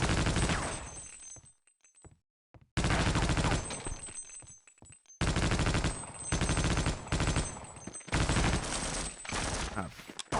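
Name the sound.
machine gun firing in video game Half-Life: Opposing Force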